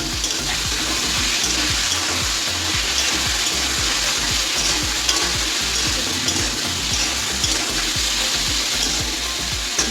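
Vegetables and green chillies frying and being stirred for a pabda fish curry, a loud steady sizzle close by with repeated scraping stirs, no voices.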